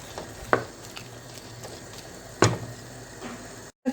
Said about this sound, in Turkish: Kaynıyor biberlerim iyice haşlanıyor.